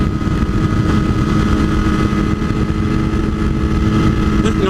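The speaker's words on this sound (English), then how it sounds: "Ooh, listen to that exhaust." A 1000cc sport motorcycle's exhaust roars steadily while riding at speed around a corner, a loud, continuous engine drone with wind rush throughout.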